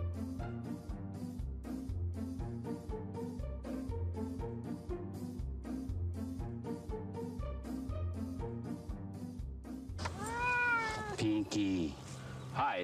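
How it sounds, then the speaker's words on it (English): Pinky, a male domestic shorthair cat, gives a few wavering meows near the end, clear and close, after a stretch of steady rhythmic music. "This is Pinky. He's a male cat, domestic short hair."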